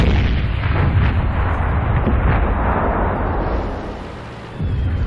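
Heavy tank cannon hits land on a German tank destroyer in World of Tanks, heard as loud, rumbling booming blasts that roll together for several seconds before a brief dip and another burst.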